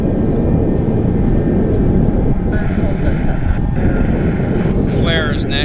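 A jet aircraft landing at Vancouver YVR airport: a loud, steady broadband roar with a whining tone that comes in partway through, and radio voices talking over it.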